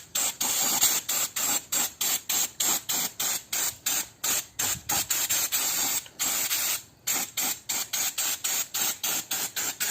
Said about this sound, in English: Some brake cleaner.